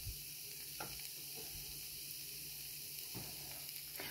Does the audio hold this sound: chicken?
yes